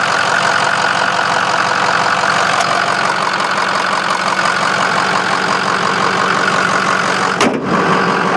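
A 550 truck engine idles with the hood open, a loud, steady, close mechanical drone with a faint knocking texture, running unbroken before a brief clunk near the end.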